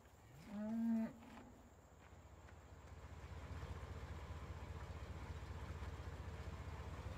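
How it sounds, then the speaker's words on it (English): A cow in the Farming Simulator 17 video game lets out a single clear, drawn-out moo near the start, followed by a steady low rumbling background with no speech. "Those are cows."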